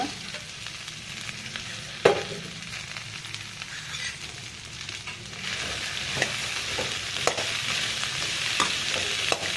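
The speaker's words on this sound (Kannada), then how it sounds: "ಇವಾಗ ಫ್ರೈ ಮಾಡೋಣ. ಫೈವ್ ಮಿನಿಟ್ಸ್ ಆದರೂ ಬೇಕು ಇದು ಫ್ರೈ ಮಾಡೋಕ್ಕೆ." Cut okra (ladies' finger) frying in about two tablespoons of oil on a stove for an okra and potato sambar, giving a steady close sizzle with intermittent spatula stirs and scrapes against the pan, no voices.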